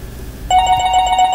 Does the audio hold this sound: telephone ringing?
yes